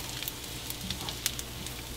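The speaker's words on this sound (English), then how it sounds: "All right, we got the bacon sizzling." Bacon sizzling in a pan on an outdoor cook, a soft steady hiss with faint crackling pops, quiet and continuous with no talk.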